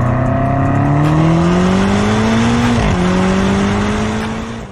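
A BMW M8 Coupe's 4.4-litre twin-turbo V8 with all-wheel drive revs hard, its loud, steady roar climbing in pitch. It dips once at a quick gear change near the end, then keeps pulling, with no voices.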